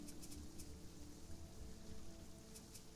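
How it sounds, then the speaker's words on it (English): Black rain falls in the survival game Sheltered as a faint, steady hiss of rainfall with soft patter on the ground, continuous and alone with no voices. "Black rain on the surface."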